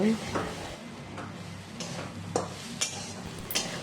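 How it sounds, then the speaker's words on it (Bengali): Chickpeas, grated coconut and spices are stirred and fried in a pan, with a soft sizzle under several sharp scrapes and clinks of a spatula against the pan at an irregular pace, close and fairly quiet. "এখন এই ছোলা নারকেল মশলাটা দিয়ে ভেজে নেব"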